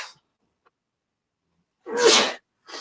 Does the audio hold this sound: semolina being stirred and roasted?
no